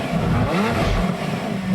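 A Lamborghini Murcielago V12 engine fires up and holds a loud, steady, deep rumble with rising harmonic growl, very close and alone.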